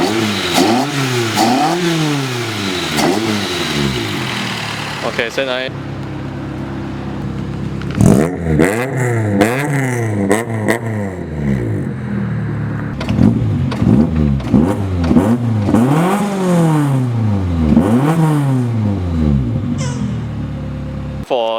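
A Toyota 4AGE engine with individual throttle bodies in an old-school Corolla KE70 drift car revs repeatedly up and down, loud and close, with a pause partway through and a brief voice at the start.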